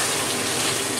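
Water hitting mutton kosha in a hot pan over a high flame gives a loud, steady sizzling hiss that fills the whole short moment without a break.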